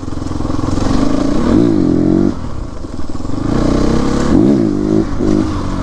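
A CrossX 300 motorcycle engine revs and pulls close by, rising twice in strong throttle sweeps with a steady mechanical drone between them, no voices over it.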